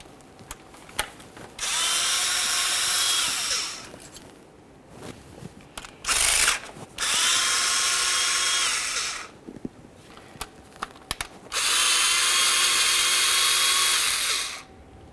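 Power tool spinning out 10mm bracket bolts on a Ford Ranger transmission: three sustained whirring runs of a few seconds each, close and loud, separated by clicks and handling noises.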